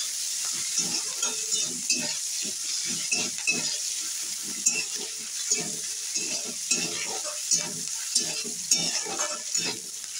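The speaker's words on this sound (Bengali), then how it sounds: "পেঁয়াজ দিচ্ছি, পেঁয়াজটা লাল করে ভাজবো" Onions fry in oil for a pointed gourd curry, a continuous bright sizzle broken by frequent rhythmic spatula scrapes and stirs, close up and with no talking.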